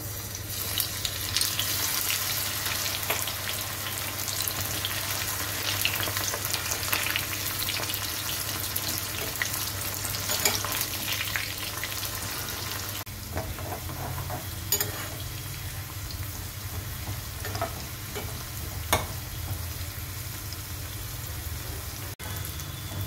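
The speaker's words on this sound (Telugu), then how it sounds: "కట్ చేసుకున్న కాకరకాయ ముక్కల్ని ఆయిల్లో డీప్ ఫ్రై చేసుకోవాలి" Bitter gourd slices deep frying in hot oil give a steady, dense sizzle that runs nonstop, shifting to a slightly lower, bubblier tone about halfway through, with no voices.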